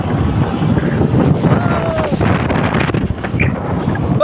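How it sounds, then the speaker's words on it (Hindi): A vehicle splashing through floodwater across a road, giving a loud, steady rushing wash of water and wind buffeting close to the microphone throughout. "अभी एक और पानी क्रॉस कर रहा हूँ मैं"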